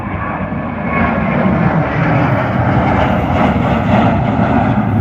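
A fixed-wing airplane flies overhead near Queenstown, its engine a steady, loud broadband drone that holds throughout with no talk.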